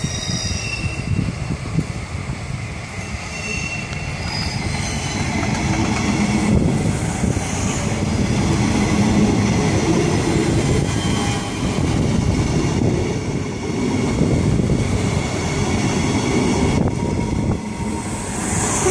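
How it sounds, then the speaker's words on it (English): An IMU 177/165 electric passenger train passes at Rocklea, Brisbane, a steady broadband rumble of wheels and motors lasting throughout, with faint high squeals and no talk. "on the time table, it's meant to be a Brisbane Airport train"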